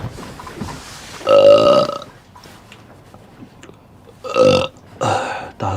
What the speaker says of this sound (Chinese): 打个嗝也没感觉了